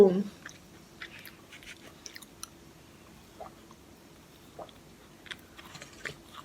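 Someone chews a crunchy salted caramel snack up close, with irregular soft crunches and bites spread across several seconds in a quiet room, no talking.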